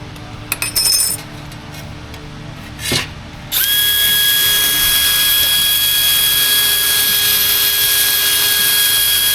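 A THINKWORK mini step bit drills into 22 gauge sheet metal with no pilot hole: a few short clicks and a brief whir, then the drill spins up into a loud, sustained high whine that holds steady to the end.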